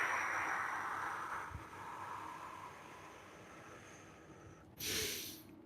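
A deep exhale during a seated stretching fold in a flexibility routine, a soft breathy rush that trails off, followed near the end by a sharper, louder breath burst.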